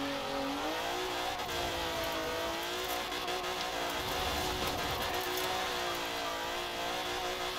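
A Cadillac limousine rounds a corner with a continuous engine hum and faint road and tyre noise, steady and fairly quiet throughout, with no voices.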